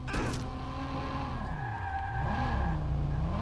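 In the video game Watch Dogs, a car drives with a continuous engine drone and a long tire skid that squeals and wavers in pitch, heard close and loud without any talk.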